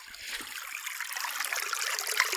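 Water runs steadily through a gold prospecting sluice at a creek, a continuous close trickling and gurgling flow that builds slightly in loudness.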